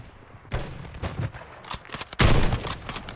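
Video game gunfire rings out in bursts of sharp shots, sporadic at first and then a loud sustained volley near the end.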